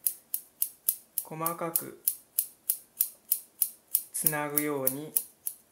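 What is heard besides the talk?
scissors tips cutting hair bangs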